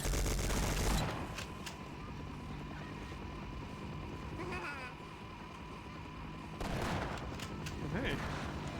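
Minigun firing in the video game Sven Co-op, a continuous roaring stream of rapid fire at moderate loudness, with a heavier burst at the start and another swell later, voices talking over parts of it.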